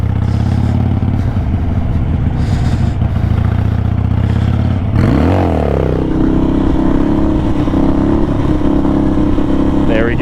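A Harley motorcycle rides around a parking lot, its engine rumbling loud and close and then changing pitch as the bike is pushed harder partway through, with someone talking over it.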